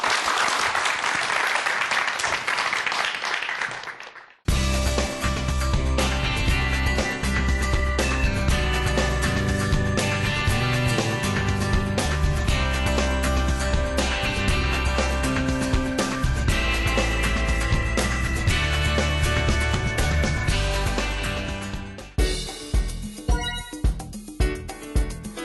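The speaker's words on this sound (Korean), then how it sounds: "박수로 강연 청해 볼게요." A lecture audience claps loudly and steadily for about eighteen seconds, welcoming a talk on Crabster, an underwater walking robot. Quieter music plays before the applause, and the clapping thins out near the end.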